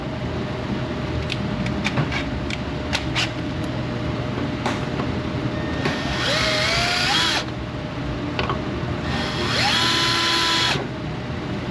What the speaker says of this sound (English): that's where I drill the hole